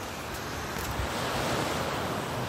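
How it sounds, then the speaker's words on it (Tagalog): Sea waves wash steadily onto a seashore, a continuous broadband roar of surf with wind noise across the microphone, even and fairly loud throughout with no voices. "Nandito ako ngayon sa baybaying dagat."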